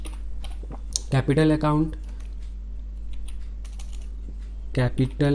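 Close, crisp keystrokes clatter in bursts on a computer keyboard during data entry in Tally Prime accounting software, alternating with someone talking.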